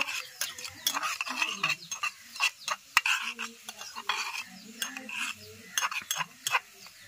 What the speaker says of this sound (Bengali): এখন আমি 5 ফোড়ন এবং শুকনো লঙ্কা ভালো করে ভেজে নিচ্ছি